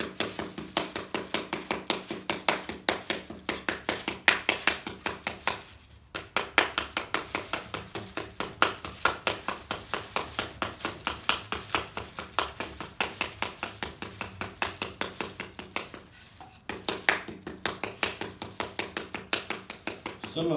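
Rapid rhythmic slapping of a wooden paddle against a small Sinagua/Salado-style clay carbon bowl, smoothing out fist marks; a steady stream of close, sharp taps with two brief pauses in between.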